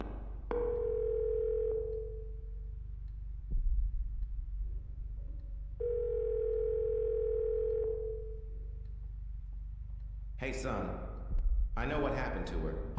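Phone in a horror video game ringing in two long steady electronic tones separated by a pause, followed by louder bursts of speech from a player.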